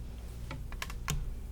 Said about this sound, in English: now I'm just going to go in with a comb and my scissors